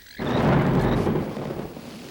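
Thunder breaks suddenly over a Costa Rica rainforest during a rainstorm, a deep rolling rumble that swells loud, then slowly fades into a steady wash of rain.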